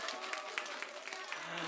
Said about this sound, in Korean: 잘했다는 박수.